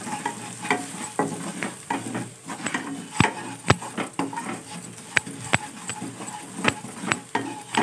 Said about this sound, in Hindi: इसके बाद हम इसमें ऐड करेंगे ये मसाले। हम इनको भी अच्छे से भून लेंगे।